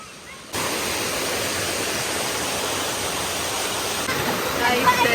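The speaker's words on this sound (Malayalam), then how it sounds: "സൗണ്ട് കേട്ടോ നിങ്ങൾ ചോലയുടെ." A forest stream at Malamalkkavu rushes close by in a loud, steady wash of water noise that starts abruptly after a brief quiet moment and continues without a break.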